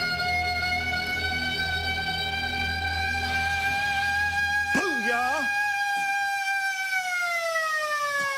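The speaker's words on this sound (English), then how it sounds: "I'm gonna sound the siren." A loud, sustained siren at the Old South Pittsburg Hospital wails with a steady tone, then warbles and slowly drops in pitch, with voices faintly talking underneath.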